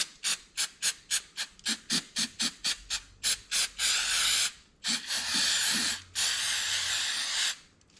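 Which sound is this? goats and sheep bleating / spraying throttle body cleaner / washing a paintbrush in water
spraying throttle body cleaner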